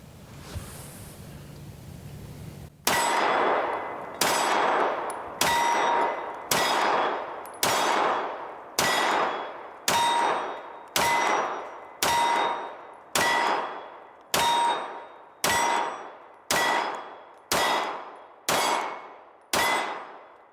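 A CZ 75 SP-01 pistol fires about fifteen evenly spaced shots, each a sharp loud crack with a ringing decay, in a steady rhythm after a quiet start.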